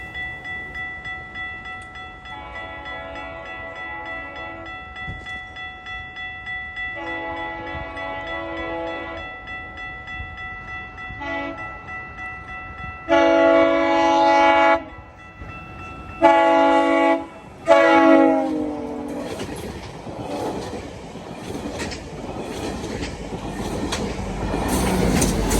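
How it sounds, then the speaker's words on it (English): A six-car GO commuter train led by cab car 375 and pushed by locomotive 602 approaches Holland Landing, sounding several long horn blasts before passing with rising wheel clatter and rumble. "we are at Holland landing and we have a GO train coming"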